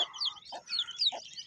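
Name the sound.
hen clucking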